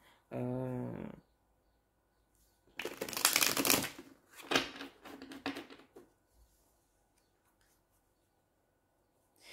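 Tarot cards are shuffled in close, dry, riffling bursts of rustle and flutter, several in a row, in a quiet room with no talking.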